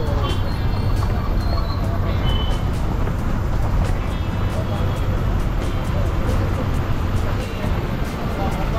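Maharashtra state transport bus pulling into Mangaon depot in the evening, with engine rumble, repeated reversing beeps and busy depot traffic noise around, voices faintly mixed in.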